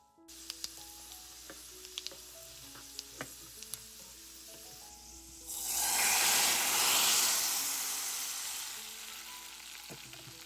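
Quiet kitchen clinks and background music give way to a sudden loud sizzle as chillies, garlic and cumin hit hot oil for tempering dal, the hissing slowly fading.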